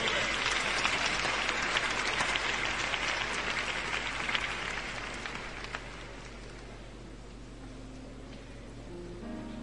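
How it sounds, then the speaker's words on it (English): A church congregation at a gospel service claps hands loudly and densely at first, then the clapping thins and fades into a softer room wash toward the end. "Come on, clap your hands and give the Lord some praise."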